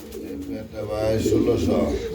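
Paired Telmar pigeons coo in low, rolling calls, steady and close, with a voice present in the background.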